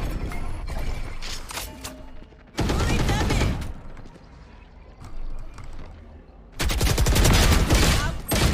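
Two loud bursts of rapid gunfire, each lasting a couple of seconds, separated by a quieter stretch of background noise.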